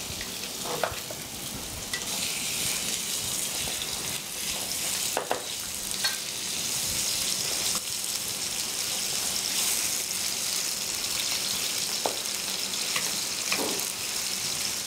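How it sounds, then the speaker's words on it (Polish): Chicken frying in a pan gives a constant crackling sizzle, close up, with occasional clinks of utensils stirring; no one speaks. "Jak Państwo widzą, kurczaki już się smażą."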